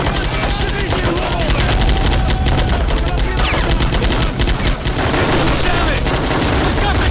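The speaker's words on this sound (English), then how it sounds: "Literally shooting RPGs at them." Rapid gunfire and RPG blasts from a large Army Men of War battle fill the whole stretch, loud and dense, crackling bursts overlapping with no clear pauses and no talk on top.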